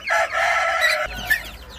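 A chicken crows loudly up close, a drawn-out rooster call followed by softer clucking.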